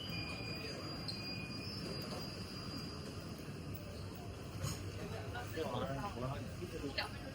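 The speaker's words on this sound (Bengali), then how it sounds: "মেট্রো চলে এসেছে।" A Shanghai airport metro train runs past with a fairly faint, steady rumble and some wheel squeal. People talk in the background.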